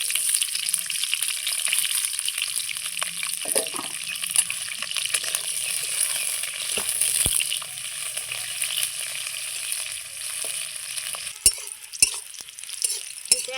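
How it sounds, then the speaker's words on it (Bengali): Steady hiss and crackle of onions frying in mustard oil, close and continuous, with a few sharper clinks near the end. "সর্ষার তেল দিয়ে দিচ্ছি পেঁয়াজটা একটু ভেজে নেব"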